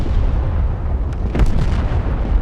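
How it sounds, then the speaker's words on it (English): Heavy bomb blasts from a stealth bomber dropping two 3,000-pound bombs in the video game Broken Arrow, deep rumbling booms with a sharper burst midway and debris settling afterward. "The explosions are cool as shit."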